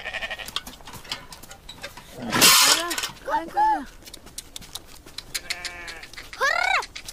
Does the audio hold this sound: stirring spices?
no